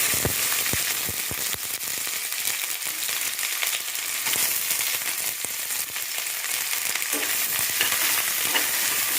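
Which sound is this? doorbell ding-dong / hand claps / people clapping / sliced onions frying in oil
sliced onions frying in oil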